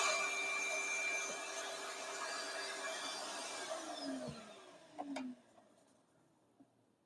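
Typical hardware-store die grinder fitted with a homemade attachment, running with a high steady whine that winds down toward the end, followed by a couple of faint clicks and near silence.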